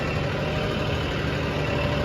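A John Deere tractor engine idles steadily at close range, a continuous low throbbing rumble with no pauses and no voices over it.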